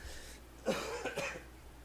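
A quiet room, then a couple of short, dry coughs close by, with a brief throat-clearing quality.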